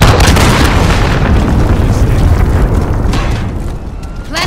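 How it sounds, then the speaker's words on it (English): A cruise missile detonates in Call of Duty Modern Warfare with a loud, close, booming blast whose rumbling roar fills the whole stretch before slowly easing off. "Enemy cruise missile incoming."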